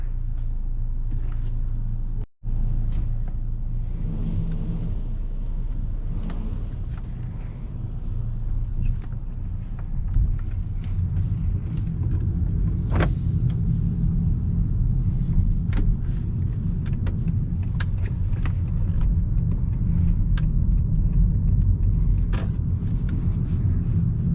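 A 2019 Honda Accord Sport 1.5T drives along on a very hot day with a steady low road rumble and engine hum, faint wind and cabin noise over it, no talking.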